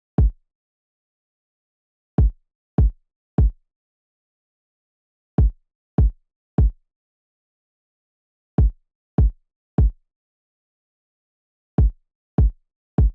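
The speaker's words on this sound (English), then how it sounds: "Then we move on to the kick," Short punchy kick drum from a hip-hop beat hits in repeated clusters of three quick thumps, each tight and close, with silence between groups and nothing else playing.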